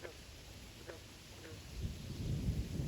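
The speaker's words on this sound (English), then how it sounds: "Oh, and the thunder." Low thunder rumbles outdoors on a hike, building louder toward the end amid steady rain-like hiss, with a few faint chirps earlier.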